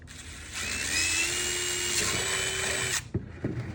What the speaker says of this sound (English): I'm going to secure that with the rivet.